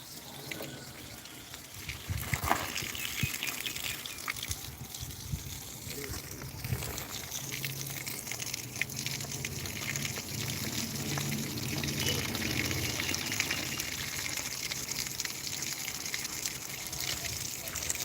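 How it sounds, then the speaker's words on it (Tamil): Water pouring steadily onto garden plants such as tulsi and thoothuvalai during morning watering, a continuous splashing gush with gentle trickling, moderately close and fairly even in level. "மார்னிங் அண்ட் ஈவினிங் நம்ம தோட்டத்தில் செடி தண்ணி விடுறது ரொம்ப ரொம்ப ஹெல்த்தியான ஒரு விஷயம்"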